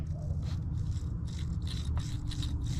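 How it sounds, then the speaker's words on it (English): A brush scrubs truck axle spacers, nuts and washers from an old Chevy pickup, making rapid rough back-and-forth scraping strokes close up with no talking. "I might as well clean up all the spacers and nuts and washers and all that."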